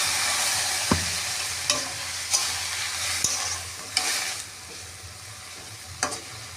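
Kalmi greens being stirred in a pan for a Bengali chachchori with jackfruit seeds, a continuous soft sizzle punctuated by about half a dozen sharp spatula scrapes and knocks, no voices.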